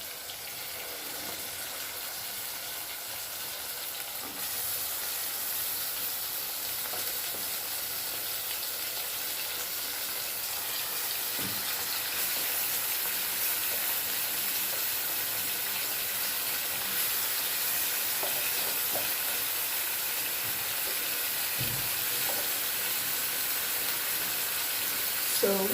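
Beef sizzling in a pot after a couple of minutes of frying onions for ginger-garlic beef: a steady, bright, continuous hiss with faint crackles and a few soft knocks, close and even throughout, with no talking.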